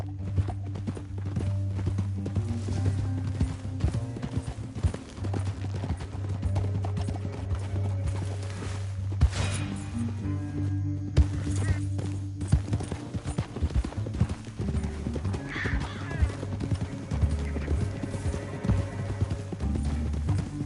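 Horses clip-clop along in the Red Dead Redemption 2 video game, a steady run of hoof beats that sits over a low sustained musical drone and keeps a loose, continuous rhythm.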